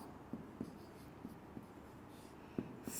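Writing on a board in a classroom lecture, faint scratchy strokes with several soft taps scattered through the quiet room.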